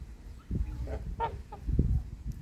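A gander on a farm gives a few hoarse honks at moderate distance, with low thumping and rustling ground noise around the calls.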